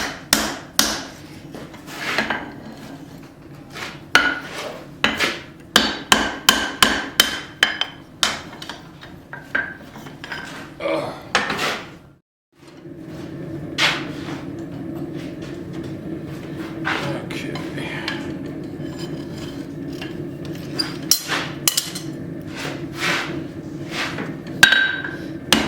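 Hammer blows ring out at a rapid, uneven rhythm while a tomahawk head is forged around a drift, pausing briefly midway before the steady hammering resumes over a low workshop hum.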